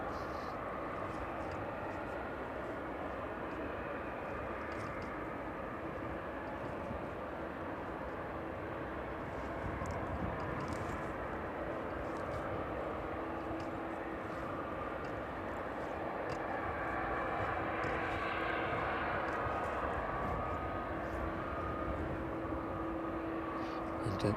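A fixed-wing aircraft approaches East Midlands Airport in gusty evening weather, giving a low, steady, distant engine roar that builds slightly over about 25 seconds, mixed with wind noise.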